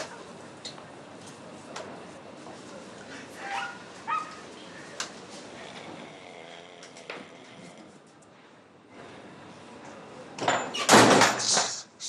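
A door in a Tunisian family sitcom home gives a loud sudden bang near the end, after quieter indoor clatter and faint background sounds.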